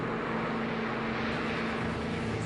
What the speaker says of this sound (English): hovering around freezing, Thane and Raymond start their takeoff run